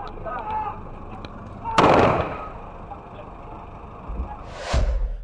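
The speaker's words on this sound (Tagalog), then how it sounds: "umalingaw-ngaw na ang mga putok ng baril." Gunfire during a police shootout in the Philippines: a sharp loud report followed by a distant crack, heard over a steady background with faint voices.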